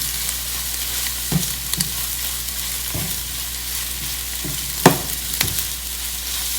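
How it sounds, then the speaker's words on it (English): Instant noodles fry in a pan on low heat while a utensil stirs them. Soft steady sizzling is broken by irregular scraping strokes and sharp clacks against the pan, close by and without talk. "Keep stirring on low heat"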